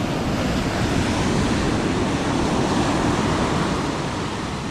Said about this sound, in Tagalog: So, ganito pa rin ang alon, malalaki.